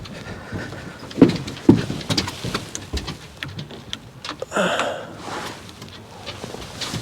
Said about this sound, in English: Starting to get some rain.